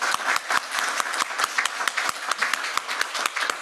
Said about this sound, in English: So just a quick round of applause for the panel.